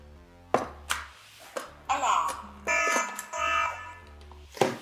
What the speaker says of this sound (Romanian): Primim alarmă, avem și notificare în bara de stare.